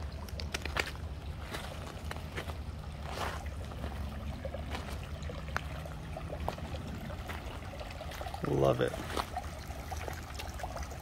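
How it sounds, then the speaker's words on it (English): A clear creek flows in a steady outdoor trickle and babble, with a brief spoken remark near the end. "they can hear the water flowing like that"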